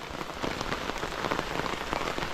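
Steady, dense rain patters on a surface close by, a continuous even hiss with no voices.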